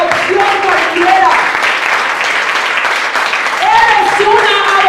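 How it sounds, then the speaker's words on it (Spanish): Congregation applauding during a Spanish-language church service, steady clapping throughout with voices and singing-like tones running over it. "Puedes darle un aplauso al Señor por eso."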